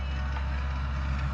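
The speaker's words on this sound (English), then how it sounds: "My neighbor's up there on the tractor working the land." A steady, low engine rumble drones on without a break, sounding like heavy machinery running some distance away.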